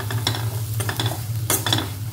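Coriander, chilli, turmeric and fenugreek powders fry over a low gas flame, a soft, steady sizzle under a low hum, with a spoon scraping and stirring in short strokes every fraction of a second, and no talking.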